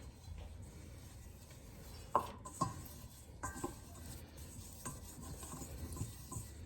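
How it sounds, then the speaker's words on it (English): Butter melting and being stirred in a pan for beef stew, with quiet scraping and stirring strokes and a few sharper utensil taps over a soft, low background. "Let's get this butter melted and mixed around."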